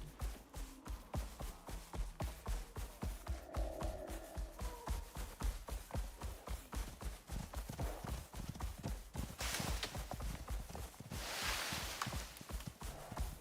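Goats run past in the Icarus survival game, their hooves clattering in a fast, steady stream of hard clip-clop beats, with brief bursts of rushing noise near the end.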